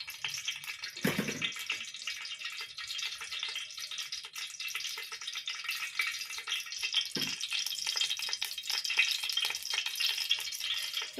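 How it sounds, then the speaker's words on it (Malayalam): Chicken pieces frying in ghee and coconut oil for biryani hiss in a dense, continuous sizzle close up, with a couple of brief low thumps from the pan. "നമ്മൾ ഈ ഇറച്ചി കൂടെ വറുക്കാനുള്ള പരുവത്തിൽ ചേർത്ത് കൊടുക്കണം."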